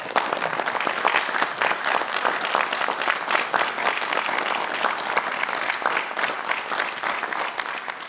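A crowd gives Richard a round of applause at the close of an evening talk on religion versus science, with dense, loud, continuous clapping and no speech over it.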